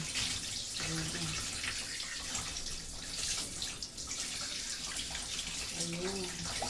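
Tap water runs steadily over a cleaned, gutted fish being rinsed at a sink, a continuous broadband splash held close and fairly loud from start to end, with a faint voice briefly audible in the background.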